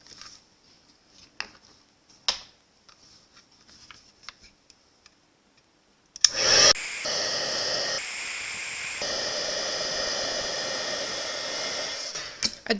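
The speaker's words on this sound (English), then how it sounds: "I'm just going to set that with the heat tool." A craft heat tool switches on halfway through after some quiet clicks and handling, then blows a steady, loud, close hiss to set embossing powder on a Christmas card, running without any talk.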